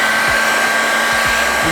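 A heat gun blowing hot air onto the crankcase of a Minarelli AM6 engine, a loud, steady close-up fan roar with a faint tonal whine.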